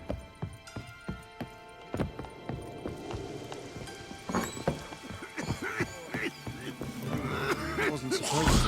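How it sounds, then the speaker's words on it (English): Rain patters in The Witcher 3, with scattered sharp drips and taps over a soft wet wash that thickens toward the end, mixed with clopping-like knocks and faint background voices. "It wasn't supposed to rain."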